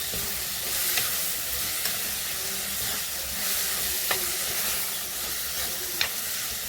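A pan sizzles with a steady hiss while a utensil scrapes and taps against it every second or so as vegetables with turmeric are stirred.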